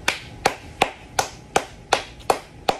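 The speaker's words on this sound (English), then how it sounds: "Clap it up." Eight sharp hand claps in a slow, even rhythm, loud and close, with nothing else between them, during a Vikings versus Eagles Monday Night Football watch.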